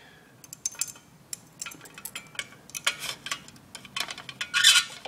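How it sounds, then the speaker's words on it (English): A glass boiling tube clinks and taps repeatedly against glassware as it is lifted out during a leaf starch test, a run of sharp irregular ticks that ends in a brighter cluster of clinks. "Let's take the boiling tube out of there."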